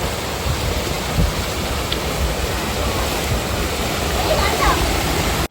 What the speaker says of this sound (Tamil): தண்ணி பாருங்க, டேம்லேருந்து அப்படியே கொட்டுது.